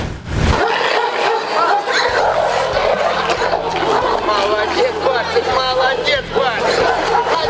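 Dogs bark and yelp during an illegal dog fight, loud and close, over a dense babble of crowd voices and shouting that runs throughout.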